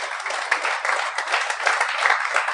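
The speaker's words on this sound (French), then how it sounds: "j'aimerais ça qu'on donne une bonne main d'applaudissement à Yann Terriot." Audience applause at a podcast taping, close and steady, continuous clapping with small surges throughout.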